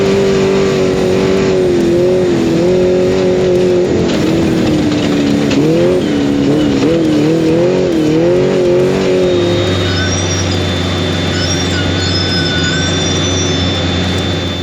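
A Baja 1000 race truck drives with a loud engine whose pitch wavers up and down through gear and throttle changes, then settles into a steadier lower drone with a faint high whine.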